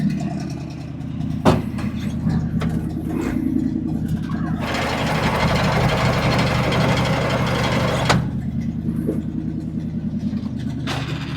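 A tow truck engine idles in a steady, low droning hum for the whole stretch, with a rougher, noisier burst in the middle and a couple of sharp knocks nearby.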